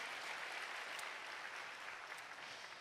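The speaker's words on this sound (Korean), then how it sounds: "우리 다음 세대 선교사님들을 위해서 박수 한번 부탁드립니다" Steady applause from a lecture audience at a church mission event, a dense even patter of many hands clapping together at moderate loudness throughout, with no voices over it.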